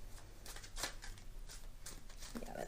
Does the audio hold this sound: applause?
no